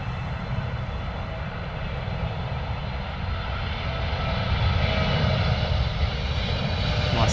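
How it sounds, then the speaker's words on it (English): A Boeing 777 airliner lands at London Heathrow, its engines producing a loud, steady broadband roar that swells slightly toward the end. "Nice and loud 777, eh?"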